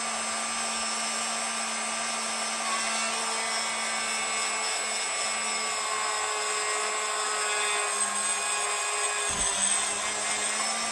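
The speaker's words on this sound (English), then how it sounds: "This is a wonderful drill, because you can hold the beads underneath and you've got both hands free." A small drill bores holes through papier-mâché beads, giving a steady, close motor whine that holds an even pitch throughout, with no talking over it.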